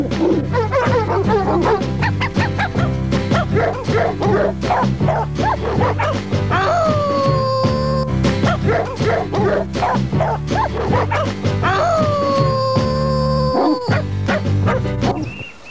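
A dog barks and yips in rapid bursts throughout, with a couple of drawn-out whimpering whines, loud and close against background noise.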